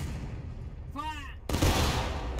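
A shouted command rings out, then a rifle volley from a company of soldiers in the Civil War video game War of Rights, at the Hagerstown Turnpike battle, erupts as a sudden loud, dense crackling roar that carries on to the end.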